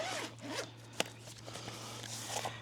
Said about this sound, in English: We're gonna go ahead and